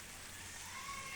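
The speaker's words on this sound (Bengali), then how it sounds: "সকাল থেকে বৃষ্টি হচ্ছে" Steady rain falls on a rooftop terrace, a continuous soft hiss that stays even and fairly faint throughout.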